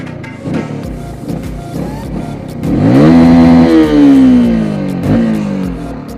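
A Yamaha R15-S motorcycle engine revs hard, climbing in pitch toward about 10,500 rpm, then easing off and blipping again. The loud, close engine rises sharply midway and holds high before settling, with no talk over it.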